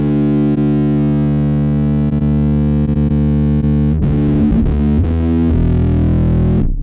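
A bass guitar runs through a Zoom B6 preamp with extra low end added, giving a loud, thick, sustained tone with a gritty, processed edge. Notes are plucked and shift toward the end, with no voices.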